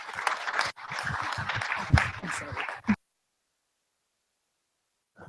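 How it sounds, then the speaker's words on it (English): A congress audience applauds to welcome a speaker, a dense burst of clapping for about three seconds that cuts off abruptly into silence. "let us give a warm applause to Dr."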